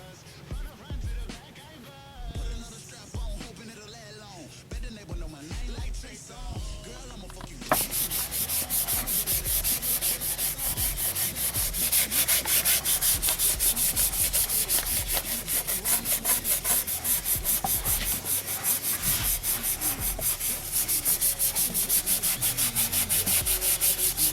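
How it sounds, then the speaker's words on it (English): A motorcycle wheel rim is scuffed before painting, producing continuous rhythmic abrasive rubbing that starts suddenly and stays loud and steady, after a quieter stretch of faint handling noises and some voice. "go around my rim, and scuff it up"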